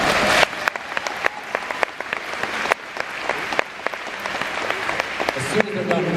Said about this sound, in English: As soon as they're done clapping, you can ask me.